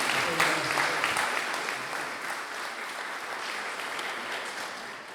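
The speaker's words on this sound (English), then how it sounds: "Can I get a applause for these photographs right here?" An audience gives applause for photographs during a conversation event, with moderate, steady clapping that swells at the start and then settles into an even patter.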